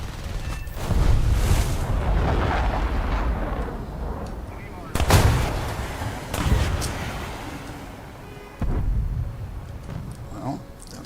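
Aircraft cannon firing in War Thunder, heard as several heavy booming bursts separated by pauses, loud and close over a rumbling engine drone, with a voice faintly underneath.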